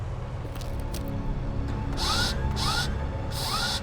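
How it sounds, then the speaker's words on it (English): Repeated bursts of hissing spray from a leaking hydraulic hose on a tow truck rotator, three sharp pulses over a low mechanical rumble, close and fairly loud. "Sounds like you got a hydraulic leak."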